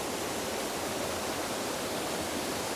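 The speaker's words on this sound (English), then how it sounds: "I came across this waterfall." Waterfall beside the south shore of Lake Quinault on the Olympic Peninsula, a steady, dense roar of rushing water filling the whole span at close range with no break or voices.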